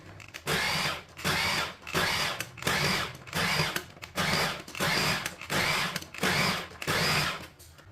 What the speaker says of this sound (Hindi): इसे मैंने ग्राइंड कर लिया।